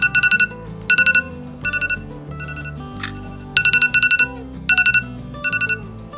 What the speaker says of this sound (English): that's the alarm going off on my phone